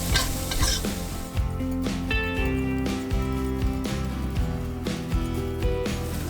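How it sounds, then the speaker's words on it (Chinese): Garlic and chopped red pepper being stir-fried in a wok over high heat, loud sizzling with repeated spatula scrapes and clanks, accompanied throughout by steady background music. "现在转大火，倒入大蒜和红椒碎， 翻炒30秒断生"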